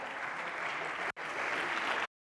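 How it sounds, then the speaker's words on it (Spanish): Congregation applauding at a Spanish-language church service, a steady dense wash of clapping that breaks off briefly, resumes, then stops abruptly. "Dale un aplauso al Señor, aleluya"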